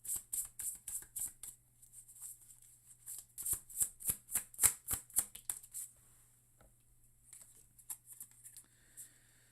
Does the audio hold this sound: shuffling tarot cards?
yes